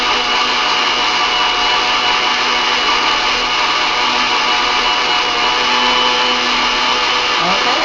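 An old kitchen blender running steadily on a souffle mixture, a loud, constant whirring motor drone that holds the same pitch throughout, up close.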